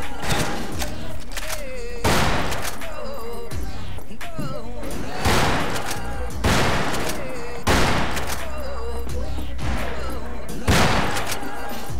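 Gunshots in the Western shooter game Fistful of Frags, loud sharp blasts fired in irregular bursts about every two seconds, with someone talking between them.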